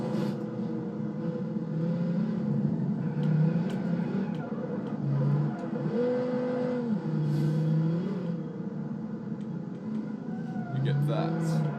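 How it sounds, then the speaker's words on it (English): Modded car engine in BeamNG.drive revving with shifting droning pitch, rising and falling through the gears, steady and fairly loud, with a voice talking over it. "if you try to rev it too hard."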